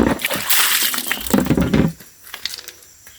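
Water gushes and splashes loudly from an old tap on a farm for a couple of seconds, then cuts to softer trickling and drips.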